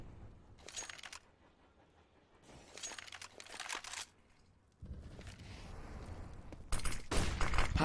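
Bursts of rifle spray ring out in a Counter-Strike match on the map Train, with several separate sharp volleys of rapid shots and quiet gaps between them, then denser firing near the end.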